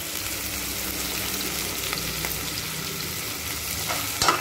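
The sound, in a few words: onions, ginger-garlic and turmeric frying and being stirred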